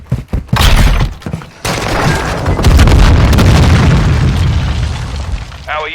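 In a Call of Duty MW2 Search and Destroy match, a planted charge goes off as a loud, close boom after a few sharp shots, followed by a long rumbling roar of debris that fades at the end.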